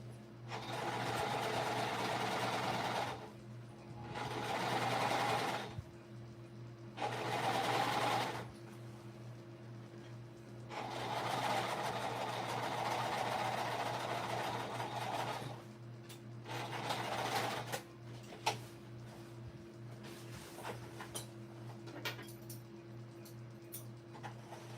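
A domestic sewing machine top stitches along the bottom of a vinyl shoulder bag, running in several steady whirring bursts of a few seconds each with pauses between, followed by soft clicks and handling sounds.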